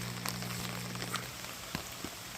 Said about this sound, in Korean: 비가 주룩주룩 내리네요